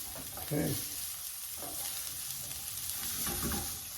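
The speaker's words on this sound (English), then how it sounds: "You hear that sizzle?" Onions sauté in hot oil in a pan with a steady crackling sizzle, punctuated by a few louder bursts as they are tossed and stirred, close up with no talk.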